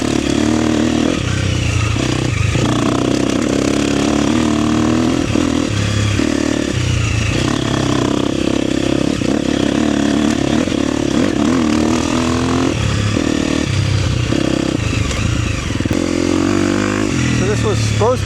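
An enduro motorcycle rides through high desert terrain, its engine droning loud and steady throughout with rising and falling revs, clattering and scraping over rough ground, and a voice speaking over it.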